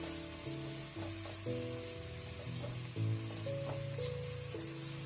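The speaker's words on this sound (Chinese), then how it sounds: "充分的把香菇和香葱炒出香味" Shiitake mushrooms and scallions are stir-fried in a wok with a soft, steady sizzle and occasional stirring clinks, heard close and without talk. Sustained musical tones run underneath.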